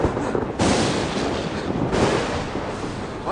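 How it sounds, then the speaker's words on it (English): Two heavy, crackling lightning-strike booms as a sound effect, the first loud burst near the start and a second one a little over a second later, each swelling and rumbling on without a break and with no talking. "Now watch the lightning bolts."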